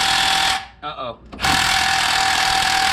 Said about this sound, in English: we're using an impact with chrome sockets